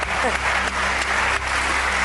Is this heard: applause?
yes